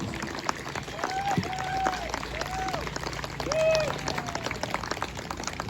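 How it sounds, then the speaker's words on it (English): An audience at Ocmulgee applauds the Nunne Hi Warriors dance group with a dense, sustained wash of clapping, mixed with scattered whoops and cheers that rise and swell midway. "You can give these guys a round of applause."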